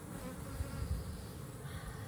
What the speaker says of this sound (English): these bees are getting super excited